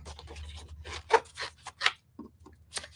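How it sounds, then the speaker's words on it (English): Scissors snip through paper while cutting out teardrop shapes, giving a quick series of crisp, close cuts with short pauses between them. "So let me cut these out quickly."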